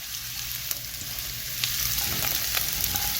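Garlic, onions, carrots and cabbage stir-frying together in a hot pan for beef lo mein, a loud, dense, continuous sizzle with occasional sharp crackles, close up and without voices.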